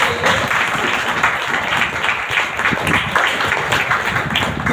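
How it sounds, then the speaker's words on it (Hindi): Loud, dense applause from a church congregation welcoming newcomers at a healing and deliverance meeting, continuous and even throughout, with a few voices mixed into the clapping. "तो आइए जोरदार तालियों के द्वारा इनका हम स्वागत करेंगे।"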